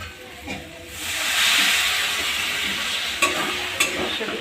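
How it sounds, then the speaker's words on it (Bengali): Vegetables fry in a pan on a raised gas flame after a little water is added, giving a steady close hiss and sizzle with occasional scraping taps of stirring. "আমি এবার অল্প একটু জল দিয়ে আবার একটু ভাজবো।"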